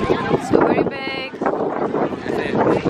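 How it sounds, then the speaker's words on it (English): Gusty wind buffeting the microphone outdoors at a busy autumn pumpkin patch, a steady rushing roar that swells and dips throughout, with a voice talking over it. "oh my god, it's so windy"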